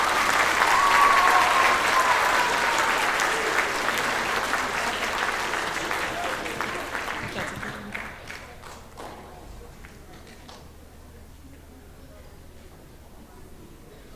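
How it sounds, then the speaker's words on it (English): A crowd at a county choral festival in Wayne County, West Virginia gives the choir a full round of applause, loud and dense at first, then thinning out into scattered claps, with a brief whistle near the start. "Let's give these guys one more round of applause."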